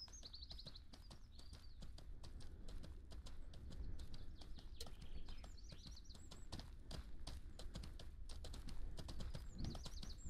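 Steady clip-clop of horse hooves in the video game Mortal Online 2, in an even walking rhythm at a fairly quiet level, with occasional bird chirps in the background.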